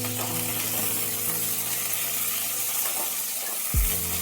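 Cauliflower florets fry in oil in a kadai over a gas flame, giving a steady, close sizzle with a short low thump near the end and no talking.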